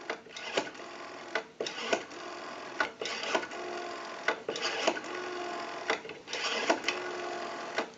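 A Western Electric 554 rotary wall telephone dial spins back again and again, each return a short run of quick mechanical clicks in repeated bursts, close and fairly quiet with no talking.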